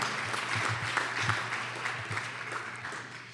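Crowd applause at a community development summit keynote fills the space, a continuous patter of many hands at moderate volume with a few sharper claps standing out and a low hum running underneath.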